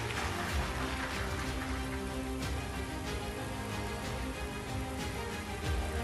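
Rain falling in a steady, dense hiss with scattered patters of drops on surfaces, continuous and even throughout, fairly faint and with no voices.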